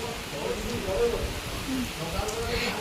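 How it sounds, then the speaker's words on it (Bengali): Heavy rain falling outside a home during a storm, a steady dense hiss lasting throughout with a few soft drops standing out and faint background voices. "কিন্তু বিশাল জোর বৃষ্টি হচ্ছে"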